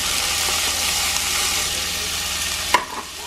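Beef frying in a pan as chopped onion goes in, a dense steady hiss of sizzling oil with a sudden sharp clatter and burst of spattering near the end.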